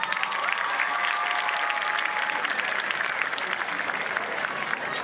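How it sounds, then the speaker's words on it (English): Sustained applause from a large graduation-style audience at an Everett school ceremony, steady dense clapping at an even level throughout. "we need to start off by giving ourselves a round of applause"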